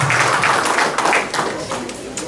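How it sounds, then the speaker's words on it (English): Audience applause at a graduation ceremony, a steady wash of clapping from many hands lasting a couple of seconds without pause. "give her a big round of applause"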